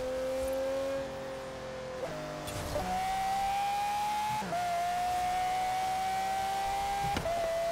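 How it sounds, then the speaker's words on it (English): A Pagani Zonda's engine in Forza Horizon 3 screams at high revs, climbing steadily through several gear shifts with brief dips between, loud and continuous over road noise. "Back in the screaming Zonda."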